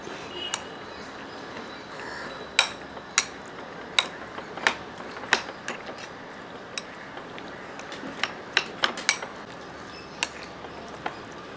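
Coconut rice being stirred in a pot with chopped ginger and salt, a spoon clicking and tapping against the pot in irregular sharp knocks over a quiet background.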